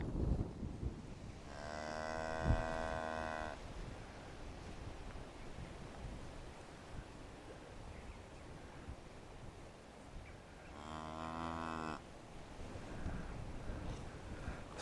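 A young heifer calf gives two drawn-out moos several seconds apart, heard over steady wind and a broad, surf-like outdoor rumble.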